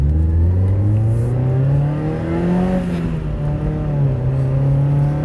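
A Mazda Miata's engine revs loudly nearby as the car pulls away. A steady low drone rises in pitch, dips and climbs again through the gears.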